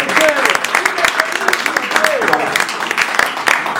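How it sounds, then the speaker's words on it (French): Applause at Werrason's press conference in Paris, a crowd clapping steadily and fairly close, mixed with cheers and calling voices throughout. "Encore un tonnerre d'applaudissements pour le roi de la France."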